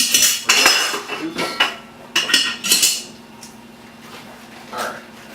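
A spoon scrapes and clanks against a metal pot while stirring a melted butter mixture for a no-bake almond joy treat. The clatter comes in loud, close bursts that fade toward quieter stirring near the end, with no talking.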